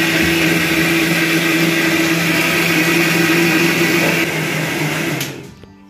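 A blender purees ripe mango with sugar into a creamy paste for mango yogurt, with a loud, steady motor whir that drops in pitch near the end and then cuts off abruptly.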